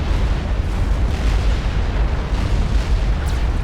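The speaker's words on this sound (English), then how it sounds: "Here's the tactical missile barrage." A tactical missile barrage in Supreme Commander, a dense rolling rumble of overlapping explosions, heavy and continuous with no pauses.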